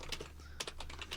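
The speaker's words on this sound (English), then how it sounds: "The fingers are going on. That keyboard is on fire." Fast typing on a computer keyboard, a quick rapid-fire run of clicking keystrokes heard close and fairly quiet over a steady low hum.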